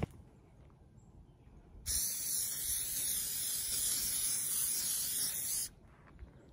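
Sennelier fixative sprayed from an aerosol can over a pastel painting: one steady, fairly close hiss lasting about four seconds, starting and stopping abruptly, with quiet surroundings before and after.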